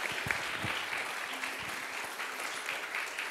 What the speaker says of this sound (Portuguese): Aplauda Jesus recebendo a serva de Deus.